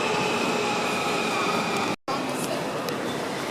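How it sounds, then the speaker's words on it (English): A metro train in a station in Belgium or the Netherlands gives a steady, loud broadband rumble with faint high whine tones, broken by one short cut near the middle, and a voice murmurs underneath. "Okay, that was the metro, so I couldn't get in"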